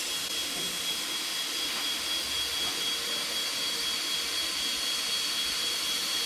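Bestarc BTC800XP plasma cutter slicing through 1-inch metal, heard as a steady, hissing airy roar with a faint high whine, continuous and moderately loud for several seconds with no talking.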